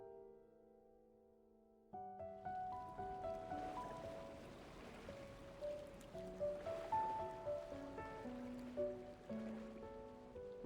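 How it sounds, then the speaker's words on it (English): Ocean waves wash steadily in the Love & Deepspace video game, a soft continuous surf beneath gentle melodic music that swells in after a quiet opening. "Listening to the ocean might help us fall asleep."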